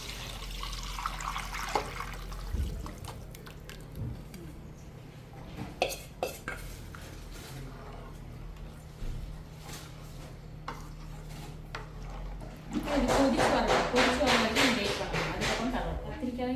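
Utensils clink against a pot before a tamarind and coconut mixture is poured into a dried ooli fish curry, the pour rushing loudly and steadily over the last few seconds.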